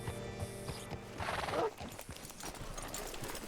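Horse hooves clip-clopping and a loud whinny in the Red Dead Redemption 2 game world, mixed with game sounds and brief voices.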